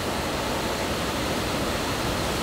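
Waterfall in the Otways rainforest, a steady, loud broadband rush of falling water that holds constant without a break, nearby and with no voices.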